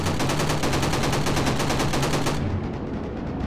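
A ball turret machine gun in a World War II-era Call of Duty video game fires a loud, rapid, evenly spaced burst for over two seconds, then stops, leaving duller rumbling game noise.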